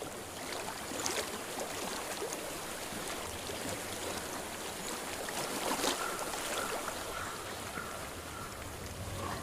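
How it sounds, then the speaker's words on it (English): Flowing water in Hellblade: Senua's Sacrifice makes a steady, soft rushing and trickling that fills the background evenly, moderately close and unbroken, with no voices. "I hear water. Go to it."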